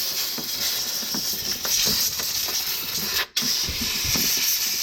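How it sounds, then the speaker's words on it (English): Compressed air line blowing sand off a Honda Pioneer 1000-5 part after creek riding, a loud steady broadband hiss close by with a brief cut-off before the blast resumes. "So, get a little air line out here, give it a good blow."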